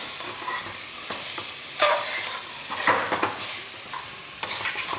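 Brinjal pieces sautéing in hot oil with masala, a steady sizzle broken by several scraping stirs of a spoon against the pan, moderately loud and close, with no voices.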